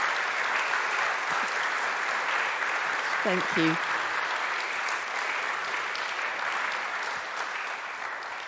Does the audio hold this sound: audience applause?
yes